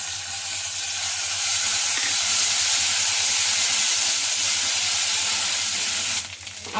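Ground ginger and green chilli paste sizzle in hot frying oil with bay leaf and whole spices, a steady close hiss running unbroken for several seconds before briefly dipping at the end.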